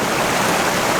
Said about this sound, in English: I've actually got a waterfall under my feet, so I'm hoping you can hear this audio.